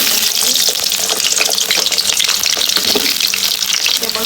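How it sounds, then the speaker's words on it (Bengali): Potatoes frying in hot oil, a loud, dense, crackling sizzle close up that continues steadily without pause. "প্রথমে আমি আলুগুলো ভেজে নেবো"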